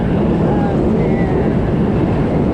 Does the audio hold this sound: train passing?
yes